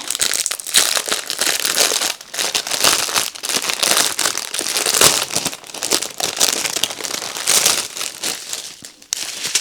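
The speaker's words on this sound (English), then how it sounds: "Sorry about the crinkling for a moment." Continuous plastic packaging crinkling and rustling as diamond painting kits are handled and browsed, close and busy with irregular crackles for about ten seconds.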